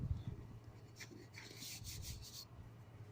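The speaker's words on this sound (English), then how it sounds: "what I'm doing now is basically just rubbing this down. So you can get a bit of a key." Hand sanding of old paint on a Talbot Express camper with 120 grit sandpaper, a soft rasping rub in repeated strokes, fairly quiet and close, with low background rumble and no talk.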